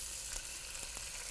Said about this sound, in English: Got some nice sizzle going.